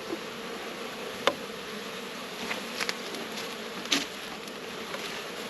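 Honeybees hum around an open hive as honey supers go on, a steady faint buzzing drone with occasional louder passes of individual bees close by.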